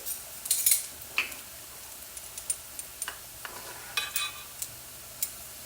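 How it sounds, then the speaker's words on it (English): Browning rice is stirred in a pan, giving light scraping and clinking taps of a utensil against the pan at irregular intervals, over a soft sizzle, close and fairly quiet. "I need to stir it because it's really browning."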